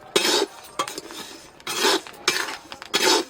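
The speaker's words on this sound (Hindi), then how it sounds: "तो इसको बहुत ही सावधानी से इसको हम पलटेंगे" Roasted puffed rice, murmura or lai roasted in sand, is turned in a pan with a utensil. Loud, close bursts of dry rustling and scraping repeat in rhythmic strokes with short pauses between them.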